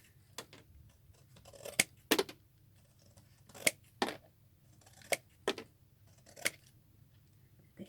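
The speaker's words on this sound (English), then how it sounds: "what I'm going to do is cut around the bottom like this" Sharp scissor snips cutting paper, about seven or eight crisp cuts in an uneven rhythm, close up against a quiet room.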